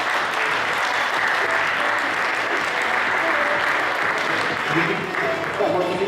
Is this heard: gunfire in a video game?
no